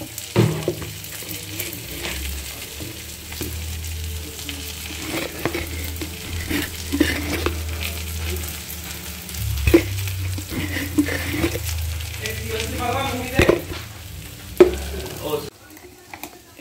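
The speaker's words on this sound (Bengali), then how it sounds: "আর একবার একটু ভালো করে নেড়ে তারপরে বেশ কিছু আলু স্ম্যাশ করে দিলাম এর ভেতরে" Spices and chili powder sizzling in a hot frying pan as they are stirred, a steady close frying hiss with scraping stirs and small pops throughout.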